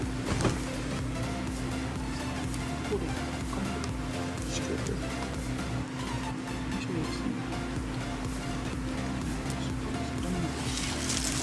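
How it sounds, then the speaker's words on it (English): A sewing machine stitching hair onto plastic wrap to make a weave track, giving a steady, close mechanical hum that runs continuously throughout. "and I'm using my sewing machine"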